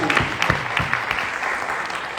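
Audience clapping at an anniversary celebration event in Pattaya: a short, fairly loud burst of many hands applauding together, with irregular sharp claps throughout.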